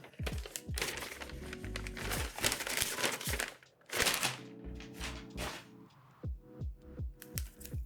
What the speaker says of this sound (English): let's unwrap this one